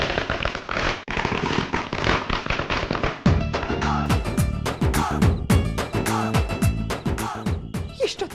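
A dense string of firecrackers bursts in rapid crackling pops, loud and near. Halfway through, the crackle gives way to a run of sharper, evenly spaced bangs.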